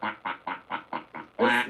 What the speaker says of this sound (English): And here comes the ducks.